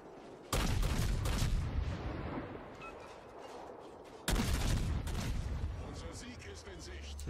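The Udaloi destroyer's naval guns in World of Warships fire two heavy booming salvos a few seconds apart, each trailing off into a rumbling tail beneath a voice commentating.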